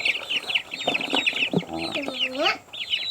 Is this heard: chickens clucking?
yes